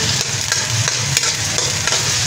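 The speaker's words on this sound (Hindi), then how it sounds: "लहसुन को ज़्यादा पकाना नहीं हमने, बस इसको हल्का सा हमने सिर्फ फ्राई करना है घी में" Finely chopped garlic fries in ghee in a pan, making a close, steady sizzle with soft scraping as it is stirred, heard alone.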